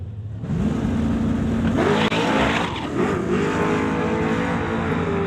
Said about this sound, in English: Jason Gibson going right up in tire smoke